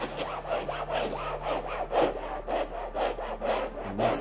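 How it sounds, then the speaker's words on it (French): A built-in brush on a fabric cleaner scrubs sofa upholstery in quick rhythmic back-and-forth strokes, a steady close-up rubbing and scratching with no talk. "grâce à sa brosse intégrée, eh bien on va frotter"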